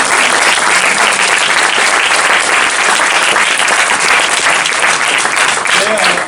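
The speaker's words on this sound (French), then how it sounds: "je vous propose quand même d'applaudir très très fort" Loud, sustained applause from an audience at a cosplay parade in the BNU library in Strasbourg, a dense wash of clapping that holds steady throughout.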